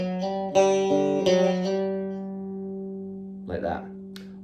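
Electric guitar plays the second section of a solo: a few sustained, ringing notes with bends, fading out before a short burst of lighter picked notes at the end.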